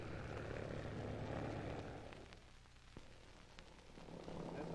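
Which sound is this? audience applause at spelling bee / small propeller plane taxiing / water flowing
small propeller plane taxiing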